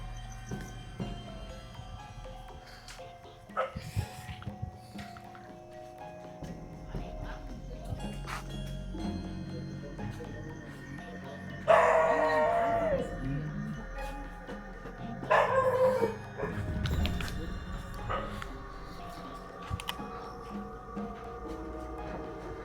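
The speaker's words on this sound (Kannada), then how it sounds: "ನಾಯಿ" Dogs bark and yelp in Kalpalli Cemetery, a burial ground for British soldiers from World War II, with scattered barks and two louder, drawn-out howling bursts over faint background noise and murmured voices.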